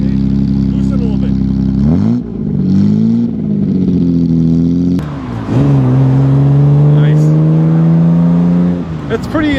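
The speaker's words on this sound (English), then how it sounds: "Yeah, it doesn't sound like a grand touring car. It sounds like a sports car." A 1955 Aston Martin DB2/4 drop head coupe being driven, its engine revving loud and close as it climbs through gears with clear pitch sweeps, occasional shifts breaking the drone.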